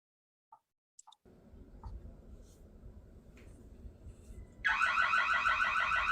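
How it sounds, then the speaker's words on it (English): A few faint beeps and clicks from an Arduino Nano home security alarm, then a low hum, followed by a loud, warbling electronic alarm that sounds continuously to the end. "you can see here the video of how the alarm works"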